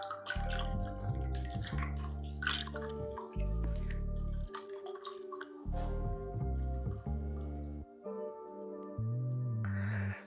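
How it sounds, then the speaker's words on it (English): A tissue-culture aquarium plant is rinsed in water, with dripping and squishy wet sounds continuing steadily and close up, broken by brief pauses, and no talking. "Give it a bit of a rinse out."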